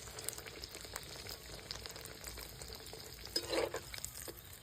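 Paneer and potato kochuri frying in hot oil on a high flame as a spatula presses them down. A steady, fairly quiet sizzle runs throughout, with a brief louder crackle near the end.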